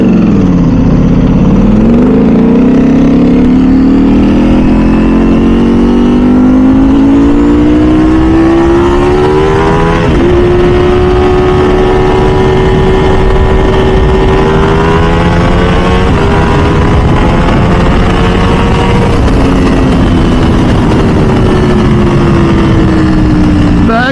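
Ducati V4 SP2 motorcycle accelerating hard on canyon roads, heard close and very loud with wind roar, its engine note climbing through several gears with brief dips at each shift.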